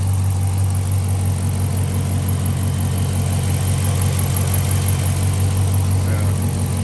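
A Dodge Charger R/T fitted with a JLT cold air intake runs close by with a steady, deep engine drone and low rumble, holding an even idle-like hum throughout without a clear rev spike.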